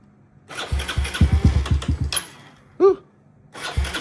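A Kawasaki KLX110L dirt bike with a 155 stroker engine and Bills big bore exhaust sputters and catches after a few cranks, pops rapidly, briefly idles, then a short squeak and another burst of engine firing.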